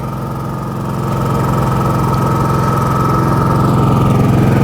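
A Champion 4500-watt inverter generator runs steadily close by, its engine hum rising slightly after the first second and then holding even and fairly loud.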